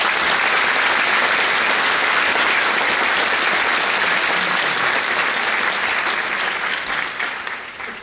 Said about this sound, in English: Let's give these 4 a huge round of applause